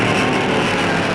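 A powerful race car starts a 1951 hill climb at the Albis, its engine roaring loud and steady throughout, close and unbroken, with no voices.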